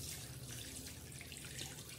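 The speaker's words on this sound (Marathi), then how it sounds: "आता याच्यात थोडंसं गरम पाणी वरून टाकणार आहोत आपण" Hot water pours into a pot of chicken curry, a faint, steady splashing rush that runs without a break for about two seconds, with no voices.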